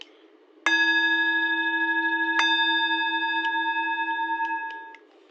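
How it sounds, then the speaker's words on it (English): A singing bowl is struck twice, each strike ringing out in a long, shimmering sustained tone, with a few light taps before it fades. "just to let y'all know what is the singing bowl"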